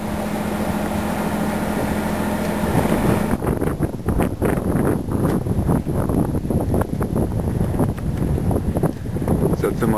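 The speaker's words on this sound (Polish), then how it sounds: "co chwila podmuchy wiatru, ponad 30 węzłów, także mocno lina naprężona pracuje" Strong wind gusts over 30 knots buffet the sailing yacht Varsovia as it sits moored to a buoy in a narrow sheltered inlet off Vancouver Island, giving a loud roaring rush with heavy microphone buffeting.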